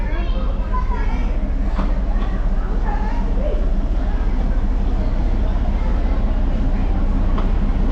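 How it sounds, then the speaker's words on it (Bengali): Darjeeling toy train, the Gayabari Jungle Safari, arrives at Gayabari station with a steady loud rumble of rolling wheels and engine under outdoor noise, and voices murmur faintly throughout. "আমাদের ট্রেন আসছে, গয়াবাড়ি জঙ্গল সাফারি ট্রেন"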